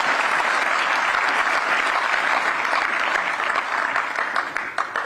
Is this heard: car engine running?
no